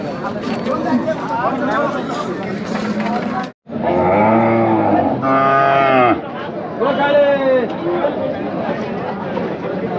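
Khillar bullocks at the Chakan cattle market give loud, sustained moos, two long calls close by, with busy market chatter and talking voices before and after.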